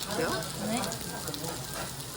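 Gopchang (grilled beef intestines) sizzles and crackles on a tabletop grill at a Korean restaurant, a steady close hiss running under chatter from diners at the table.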